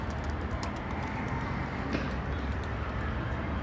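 Pigeons coo and stir over a steady, dense outdoor background, their calls mixed into continuous noise with no voices.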